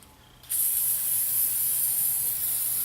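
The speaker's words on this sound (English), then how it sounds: "Sometimes what I'll end up doing is spraying it once, let it sit, dry up real good, and then I will hit it again." An aerosol can of anti-corrosion spray hissing onto battery metal, a sharp steady spray that starts abruptly after a moment of quiet and continues without pause to the end.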